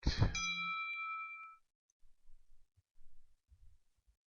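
A mobile phone notification going off during a tutorial: a single bright chime that rings out and fades over about a second and a half, followed by a few faint low rustles and clicks.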